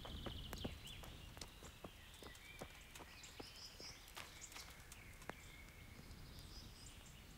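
Faint hooves of a horse in the video game Kingdom Come: Deliverance clip-clop at a walking pace amid soft ambient noise, with occasional birdsong and chirps in the background.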